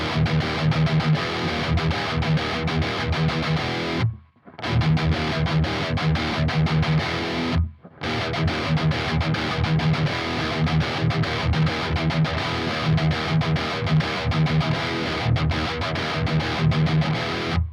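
Heavy distorted electric guitar riff chugging continuously, loud and dense, with two brief gaps where the sound cuts out before the riff resumes.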